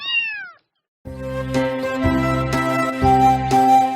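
Domestic cat meowing: a short rising-falling meow, a brief pause, then a run of bright, tonal notes close and loud.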